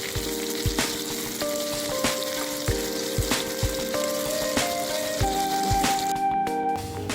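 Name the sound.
ginger pieces frying in hot oil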